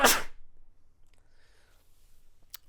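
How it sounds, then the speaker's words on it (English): One strong sneeze bursts out loud and close at the very start, then trails off into near silence with faint rustles and a brief sharp tick near the end. "Wow, that was a strong sneeze"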